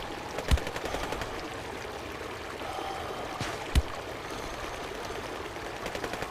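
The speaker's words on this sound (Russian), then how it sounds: "Кто где стреляет, не понимаю." Distant gunshots crack in Kujlevka, two sharp isolated reports a few seconds apart over a steady rushing, watery background hiss.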